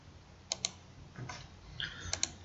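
Typing on a computer keyboard while naming a folder for cross-section files, a few close, sharp key clicks in short sparse bursts against a faint room hum.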